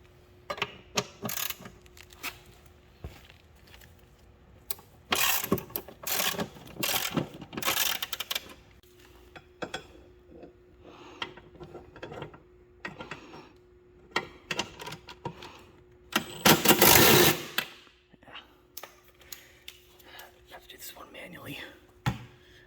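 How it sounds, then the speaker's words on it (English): Bolts on a car's current driver's seat being loosened from the seat mount with a ratcheting tool: bursts of metallic ratchet clicks and clattering mechanism sounds come in irregular runs, close by, with quiet pauses between. "let's get it unbolted from the current driver's seat and bolt it onto this."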